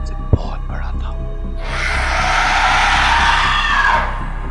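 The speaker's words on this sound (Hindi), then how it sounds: "बहुत जोर से चीख निकल गई" A loud, sustained scream of terror in a horror story, rising suddenly over a steady background and holding for about two seconds before cutting off.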